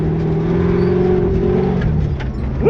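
A race car with a dogbox transmission pulls hard through its gears, the engine droning steadily before a quick shift and a rising rev at the end, loud and close.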